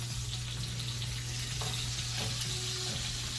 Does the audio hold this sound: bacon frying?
yes